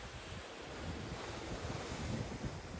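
Ocean waves washing and wind blowing steadily in the middle of the Pacific Ocean, heard from a cruise ship, with a constant broadband roar and buffeting wind noise on the microphone.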